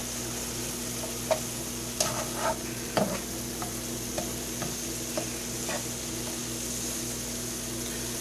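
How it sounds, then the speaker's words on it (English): Ground beef browns in a pan for homemade pizza and is pushed around, a steady low sizzle with scattered scraping stir strokes and soft clicks, close, no voices. "It's starting to brown up a little bit more, so what we're going to do is go ahead and sift it around a little bit."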